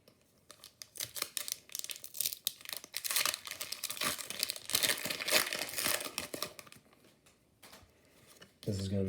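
Pokémon card packs from a Meowscarada ex Premium Collection Box torn open, close crinkling and ripping of foil wrappers in busy bursts, with a voice talking over it.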